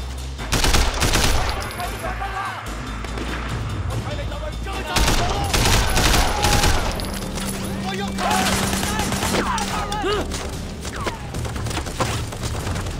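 Rapid bursts of automatic gunfire and heavy thuds from the open-world action game Sleeping Dogs, loud and continuous across the whole stretch, with someone talking over the shooting.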